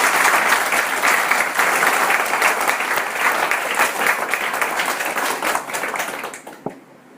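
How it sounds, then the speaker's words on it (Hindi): Audience breaking into loud, sustained applause, many hands clapping in a thick continuous wash that thins and fades out near the end, with a final stray clap. "अगर आप ये समझ गए तो एक बार जोरदार तालियां बजा सकते हैं"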